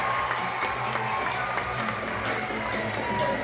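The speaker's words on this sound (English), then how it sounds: "Listen to the crowd." Banana Ball crowd in Savannah, Georgia cheering as a runner reaches second base, a steady, moderately loud roar of voices with scattered claps and shouts.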